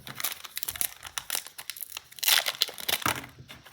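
Pokémon Halloween 2024 Trick or Trade card booster packs are torn open close by, with loud crinkling foil wrappers and sharp tearing in dense, uneven bursts and no speech.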